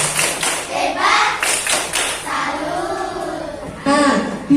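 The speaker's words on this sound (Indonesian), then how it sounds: "tepuk salut untuk Vena" A classroom group claps for a student named Vena, with rhythmic, hearty clapping mixed with voices and cheering throughout the short stretch.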